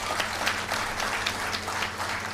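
Steady audience applause fills the clip, a dense wash of many hands clapping at close range with no voices above it.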